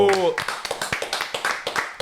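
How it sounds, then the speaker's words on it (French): A small group in a casual French chat setting claps hands in a quick irregular burst right after a brief voice, the sharp slaps fairly close and mixed with light vocal sounds. "J'aime bien qu'on applaudisse tout."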